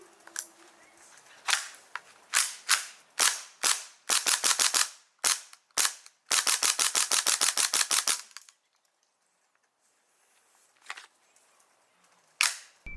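Airsoft pistol shots crack out close and loud, single snaps at first, then rapid bursts of quick repeated pops, a pause, and two more scattered shots.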